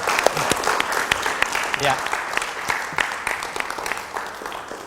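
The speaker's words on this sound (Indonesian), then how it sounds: "kita berikan tepuk tangan sekali lagi kepada Bung Bill" Applause for a speaker at a management talk on managing the nation, a steady clatter of clapping from an indoor audience that holds throughout, with a brief spoken word over it.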